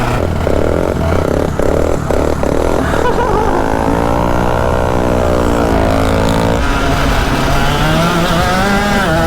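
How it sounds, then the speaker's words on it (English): A two-stroke engine on a mini go-kart revs hard and loud, its pitch sweeping up and down through the power band in repeated rising and falling runs, close to the listener and alone with no talk over it. "Dude, the 2-stroke, the power band's crazy."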